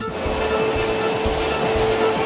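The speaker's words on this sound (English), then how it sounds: "Mr. Trump, I'm going to need you to vacuum." A vacuum cleaner runs steadily and loudly, close by, with a constant whirring motor drone throughout.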